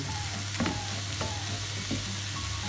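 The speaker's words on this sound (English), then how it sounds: "mix this around for another minute till the parmesan melts through" Gnocchi and melting parmesan sizzling in a hot pan while being stirred, a constant close frying hiss broken by a few soft scrapes and knocks of the utensil.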